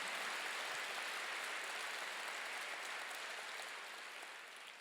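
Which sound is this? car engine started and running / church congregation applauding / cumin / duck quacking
church congregation applauding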